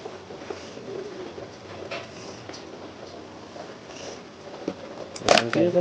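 Pigeons in a loft of rare breeds, including a large pigeon kept for feeding, coo softly and intermittently against steady background noise, with a sharper burst of sound near the end.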